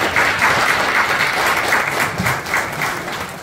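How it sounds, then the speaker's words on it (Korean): An audience at a year-end general meeting and party bursts into loud, sustained applause, a dense crowd of hands clapping steadily throughout with no voices over it. "큰 박수 다시 한번 부탁드립니다"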